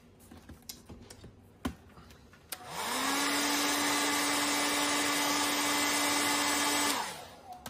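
A hair dryer switches on and blows with a loud, steady whooshing roar for several seconds, drying paint on a miniature, then shuts off; faint clicks and taps before it.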